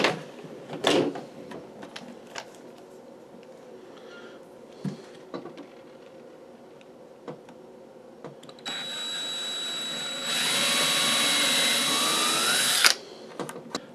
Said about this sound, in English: Drill me a pilot hole.